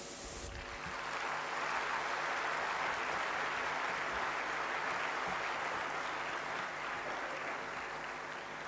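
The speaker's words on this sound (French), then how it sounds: "je vous demande respectueusement de leur souhaiter à eux et à toutes les autres délégations la bienvenue à Brazzaville par de salves d'applaudissements" A conference audience at a summit in Brazzaville gives sustained applause welcoming the delegations, a dense even wash of many hands clapping that continues steadily for several seconds without talk.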